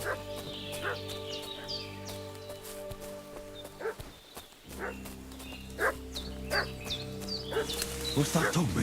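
A dog in Kingdom Come: Deliverance 2 barks repeatedly in short bursts at mid distance, set against a steady droning village ambience with hooves and farm animals, and a voice speaks over part of it.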